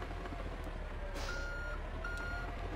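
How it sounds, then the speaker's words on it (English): Reversing beeps from a garbage truck in Grand Theft Auto: Vice City, a steady repeating electronic beep over a loud engine drone, heard alone for a few seconds. "It's almost like it's a garbage truck."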